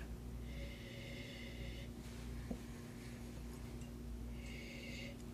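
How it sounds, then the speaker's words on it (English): Two quick nasal sniffs of wine in a glass close to the microphone, a few seconds apart, over a quiet background hum. "But first, a sniffy sniff."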